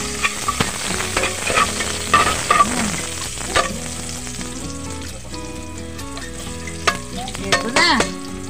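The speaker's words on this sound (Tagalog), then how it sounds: "Igisa natin yung adobo." Adobo being sautéed with chili, garlic and ginger in a pan, giving a steady sizzle broken by repeated scraping stirs and clinks of a utensil, close and fairly loud with no talking.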